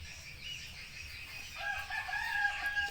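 A sick mixed-breed backyard chicken with a cold, runny nose and swollen eyes gives a drawn-out, crow-like call that rises partway through, fairly close, over a low rustling background.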